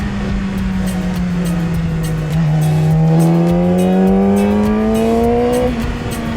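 A Yamaha R6 sport motorcycle revs hard under throttle, its engine tone climbing steadily and then holding high, loud and close with no one talking.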